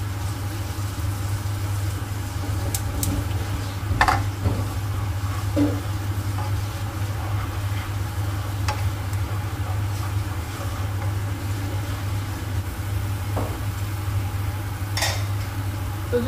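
Asafoetida (hing) dropped into hot oil while making aloo fulkopir rasa: a steady, close-up sizzle over a low hum, with occasional sharp clinks of a spoon against the pan.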